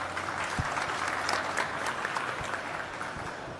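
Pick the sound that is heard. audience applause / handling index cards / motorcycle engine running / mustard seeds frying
audience applause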